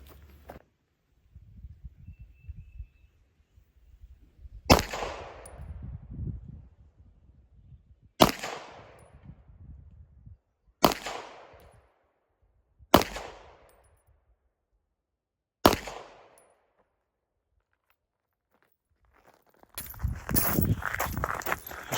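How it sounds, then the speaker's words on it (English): A Walther PDP 9mm pistol fires cheap, hot Blazer 115-grain factory ammunition at a 15-yard range, five sharp, loud reports spaced a few seconds apart with rustling and handling noise between them and a louder burst of commotion at the end. "The ammo I'm shooting today is cheap Blazer 115 grain 9mm"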